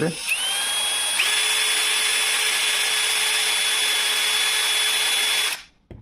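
A power drill bores 3 mm holes into the plastic housing of a flashlight. It runs as one loud, steady whine with a rising pitch near the start, then cuts off abruptly before the end. No one speaks over it.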